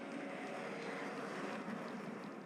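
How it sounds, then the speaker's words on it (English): A supersonic jet airliner lifts off a runway with a broad, sustained roar of engine noise, heard from a distance without any voices. "Captain Marty lifts the supersonic jet into the air."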